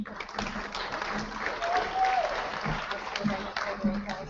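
Audience applause at a school moving-up ceremony during the presentation of certificates: a steady, moderate wash of clapping throughout, with a voice speaking over it.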